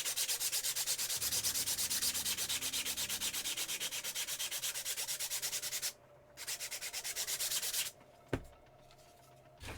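An electric sander works across a surface with a fast, steady buzzing rasp, loud and close, cutting out briefly near the end before resuming, followed by a short knock and a quieter stretch.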